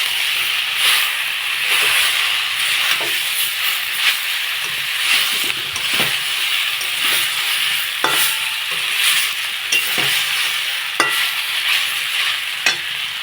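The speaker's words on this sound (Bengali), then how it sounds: "চিংড়িটা দিয়ে অল্প একটু কষিয়ে নিই।" Fried dried shrimp being sautéed in a tomato masala, loud close sizzling with repeated spatula scrapes and stirring knocks at an uneven rhythm, no voices.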